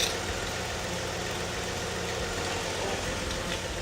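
A car's V6 engine idles steadily up close, a low rumbling drone with even knocking pulses and no talking.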